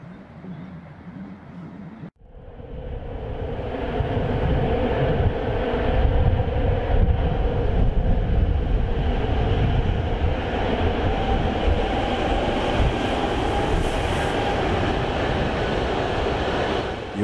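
DB Class 145 electric locomotive, an 80-tonne engine running on 15 kV 16.7 Hz with nose-suspended drive, passing or running with a loud, sustained rumble and hum after a brief quieter lead-in, steady and close for the whole stretch.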